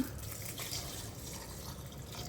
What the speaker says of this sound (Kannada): ನೀರು ಹಾಕಬೇಕು ರುಬ್ಬೋ ಮೊದಲು